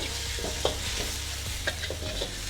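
Prawns are stir-fried in a pan, a continuous close sizzle broken by a few scraping stirs and light utensil knocks, with no voices.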